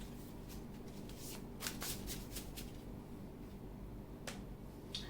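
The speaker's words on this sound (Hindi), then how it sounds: "मैं कुछ कार्ड निकलना चाहूंगी जो इसमें आपके एडवाइस कार्ड के जैसा वो आए।" Tarot cards shuffled and drawn during a reading, with quiet riffling and several sharp card flicks and snaps against a soft background hiss, without speech.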